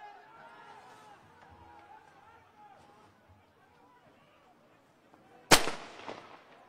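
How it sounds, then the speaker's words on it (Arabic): Heavy gunfire erupts during a military raid on a village, a single loud sharp burst near the end after a stretch of murmured voices and background activity. "اطلاق رصاص كثيف تجاه شبان خلال عملية الاقتحام"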